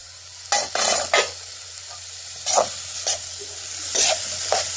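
Ginger, chili and garlic paste frying in a pan hisses steadily, broken by several loud bursts of stirring and scraping against the cookware.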